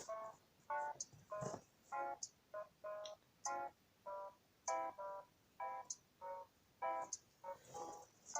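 A phone sounds a series of short electronic tones, around a dozen evenly spaced beeps in a steady rhythm, fairly quiet and alone.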